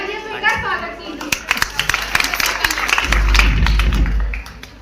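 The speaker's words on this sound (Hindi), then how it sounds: "मेरी हर गलती पर वो मुझको जोरदार तालियों से स्वागत कीजिए" Applause from a crowd at a farewell party after a poem recital, beginning as scattered sharp claps that thicken into louder, steadier clapping, with a voice heard over the start.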